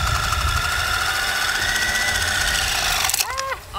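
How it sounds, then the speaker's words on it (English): A Dremel rotary tool motor mounted on a homemade helicopter runs loud and close with a steady, high buzzing whine for about three seconds, then its pitch wavers and the sound breaks up and fades as it cuts back. "We are going to test the Dremel copter"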